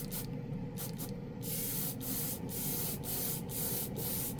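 A steady, continuous hiss of a small portable airbrush compressor running close by, with soft rhythmic pulsing fluctuations and no talking.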